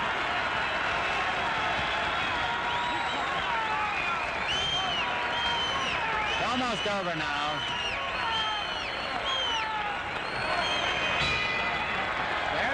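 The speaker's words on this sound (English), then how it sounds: "Listen to the applause." Applause and crowd noise fill a boxing arena as a 1963 middleweight fight between Rubin "Hurricane" Carter and Gomeo Brennan ends, a steady roar running beneath a commentator's continuous talk.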